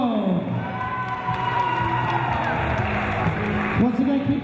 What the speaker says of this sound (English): keep the applause going for the head coach, Peter Cepeda